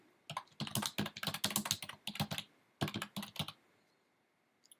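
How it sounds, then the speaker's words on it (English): Rapid typing on a computer keyboard: close, crisp key clicks in two quick bursts separated by a short pause, then quiet. "Boy, am I typing."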